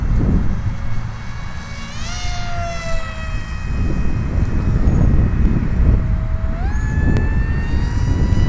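An RC Cessna 182 model airplane comes in to land, its buzzing electric motor whining and sliding in pitch as the throttle changes, with wind noise and handling sounds over a steady background, no talk.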